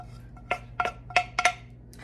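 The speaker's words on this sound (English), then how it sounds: "now we're gonna mix it all together" A spoon or utensil clinks against a bowl while chicken parmesan muffin mixture with sautéed onions and garlic is stirred, giving four or five quick ringing taps at a near, quiet level over a low background hum.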